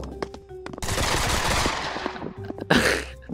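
Automatic gunfire in Pavlov VR, a virtual reality shooter: a long sustained burst of rapid rifle or submachine gun shots rattles loudly for about two seconds, framed by a few single shots before and a sharp blast at the end.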